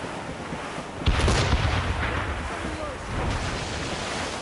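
Ship cannons fire in the naval combat of Assassin's Creed Rogue, a heavy booming blast that swells into a long rumbling roar over constant sea and wind noise, with shouted voices in the background.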